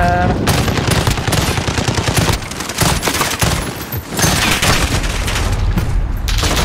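Rapid automatic FAMAS rifle fire in Call of Duty: Modern Warfare (2019), loud and dense, with sustained bursts and booming reports that dip briefly around the midpoint before resuming.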